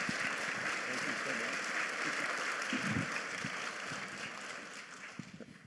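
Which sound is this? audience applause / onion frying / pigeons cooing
audience applause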